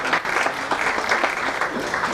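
A business breakfast audience applauds in a dense, continuous wash of many hands clapping at once, moderately loud and roomy, with no voice over it.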